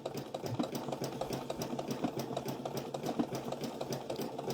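A sewing machine stitching fabric onto a dishtowel makes a steady, fast mechanical whir and rhythmic needle clatter, close and continuous, with no talking.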